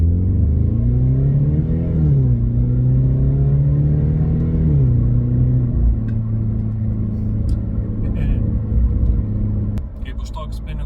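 A car fitted with an intake manifold spacer drives along, its engine droning steadily with pitch rising and easing through gear changes, close and continuous, with some clicks near the end.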